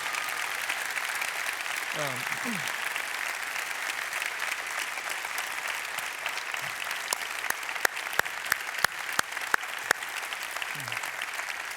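A staff audience applauding at an all-staff meeting, a steady wash of many hands clapping from start to finish, with a few sharper nearby claps standing out and brief vocal sounds mixed in.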